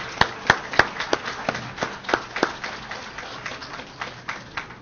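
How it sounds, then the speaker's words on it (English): A thin scatter of claps from a modest crowd at a Philadelphia Airport exhibit unveiling, a few sharp early claps then a loose, steady patter fading slightly toward the end. "give them a round of applause for their support being here"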